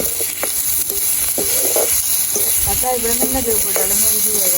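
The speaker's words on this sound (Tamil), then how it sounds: "இது தக்காளி பழத்தை போடுவோம்" Tomatoes drop into a hot pan and sizzle loudly, with a spoon scraping and stirring in short strokes over the steady hiss. A voice can be heard faintly underneath.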